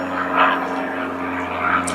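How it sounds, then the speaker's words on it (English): An airplane passes overhead with a steady, loud droning engine hum that swells slightly and then fades. "And there's an airplane."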